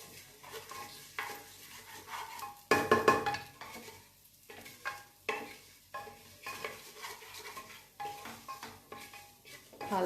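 Moong dal for khichdi being stirred and fried in a pot: repeated scraping strokes of a utensil against metal over a light sizzle, with a loud clatter of cookware near the middle.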